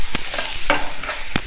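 Mutton sambar masala frying in a pan until brown, with a steady close sizzle broken by a few sharp scraping stirs of the spoon.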